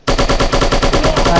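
Rapid automatic gunfire from the Striker shooting video game, a loud close burst of evenly spaced shots that starts abruptly and runs continuously without pause.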